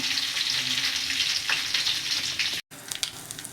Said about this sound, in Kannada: ಒಂದು 4 ಒಣಮೆಣಸಿನ್ಕಾಯನ್ನು ಕಾದಿರಿ ಎಣ್ಣೆಯಲ್ಲಿ ಸೇರಿಸ್ತಾ ಇದ್ದೀನಿ ನಾನು